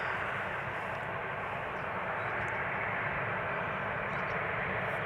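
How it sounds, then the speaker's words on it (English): A KLM Boeing 777-300ER taxis toward the runway threshold at Amsterdam Schiphol, its engines producing a steady, broad, loud rushing roar that holds unchanged throughout with no distinct events. "Taxiing to the runway threshold, KLM flight 713 outbound to Paramaribo. This is a 777-300ER"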